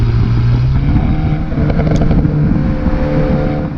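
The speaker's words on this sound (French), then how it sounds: "le pot d'échappement nous offre des pétarades" Alpine A110 sports car in sport mode, its engine droning steadily and loudly close by, with a few exhaust pops and crackles as the throttle lifts midway through.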